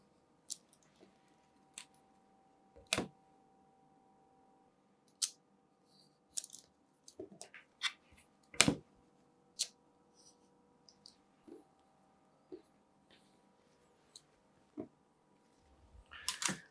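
A knife slicing through board at a 45-degree angle along a triangular ruler gives sparse, quiet clicks and short scraping cuts, with a couple of sharper snaps, in a near-silent room.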